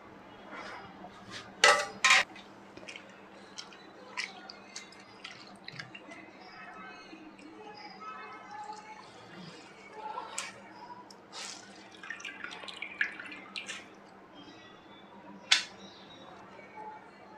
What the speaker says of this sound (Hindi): अब तीसरी बार इसको पानी से धो देंगे।